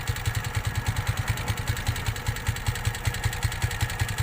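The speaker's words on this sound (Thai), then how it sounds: "เสียงเบามากนะ ใกล้เคียงท่อเดิมเลย" Honda scooter idling with a modified, quieted exhaust, a close, steady low putter with rapid even pulses and no speech.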